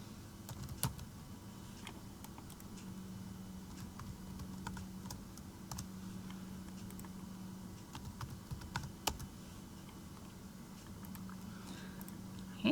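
Steady computer keyboard typing and clicking while working in Tinkercad, a run of close, fairly quiet keystrokes with a few sharper taps, a low hum running underneath throughout.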